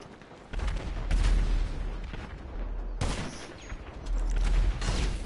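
Sniper gunfire in a GTA Online free-mode fight, sounding as loud, dense bursts of shots and booms that fill most of the stretch, with a sharp new volley midway.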